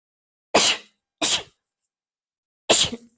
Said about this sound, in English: But I feel like I have to sneeze.